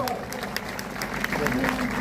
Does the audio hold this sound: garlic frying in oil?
no